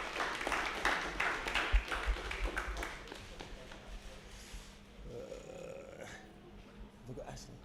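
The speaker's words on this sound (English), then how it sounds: "Round of applause, please." Audience applause at a press conference for an unlicensed boxing event, a few seconds of dense clapping that fades out while talk carries on over it.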